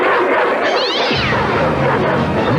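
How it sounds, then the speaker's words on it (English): A cat meows loudly and insistently at close range for dinner, a drawn-out yowl rising and bending, alone with no talk. "Here, kitty, kitty, kitty. Dinner time. Is my little precious hungry?"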